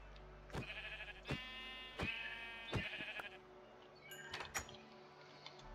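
Sheep in Minecraft bleat in short, repeated cries, several close calls spaced a second or so apart, with a few faint clicks and taps between them.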